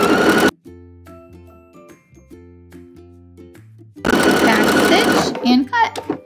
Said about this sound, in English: let's stitch this opening shut